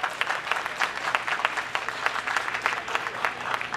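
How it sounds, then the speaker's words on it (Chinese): Applause from a large banquet crowd for a deputy speaker at a 200-table temple dinner for elderly and needy people, steady dense clapping with rhythmic peaks throughout. "所以我们是不是给我们副议长许秀瑞掌声鼓励好不好"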